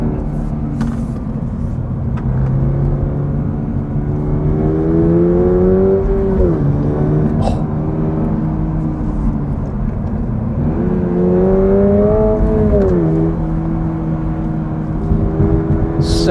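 A Subaru BRZ tS is driven hard downhill, engine note rising and falling through two long revving pulls with shifts between, loud and close, with no talk over it.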